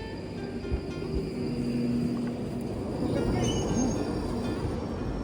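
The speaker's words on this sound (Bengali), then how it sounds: "চলো যাই ভেতরে ট্রেনের।" A London Underground tube train rumbles steadily with a faint squeal of wheels on track, continuous and close, with a little background talk.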